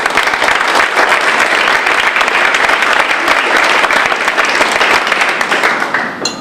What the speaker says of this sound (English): don't usually get applause when I'm at groups